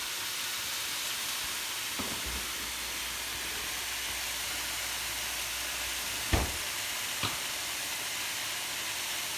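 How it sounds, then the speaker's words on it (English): Steady, loud sizzling hiss from a hot wok runs throughout, broken only by a couple of faint clinks. "You see how you guys hear that sizzle?"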